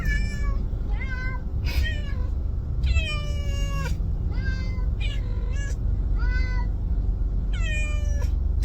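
Two cats shut in pet carriers on a car ride to the vet meow loudly and repeatedly, long drawn-out wails and caterwauls arriving in irregular bursts over a constant low engine rumble.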